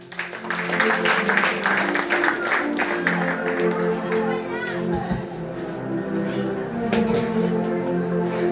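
A church congregation claps in loud, sustained applause, mixed with voices and children calling, in a lively, reverberant room.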